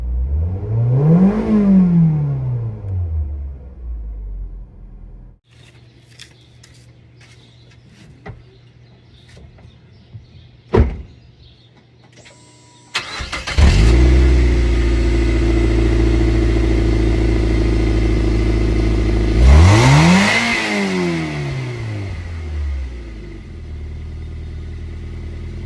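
A Mazda Miata NC sports car engine revs in a few sharp bursts, climbing and falling with a near rising-and-dropping whine, then settling into a steady, loud idle rumble between and after the revs.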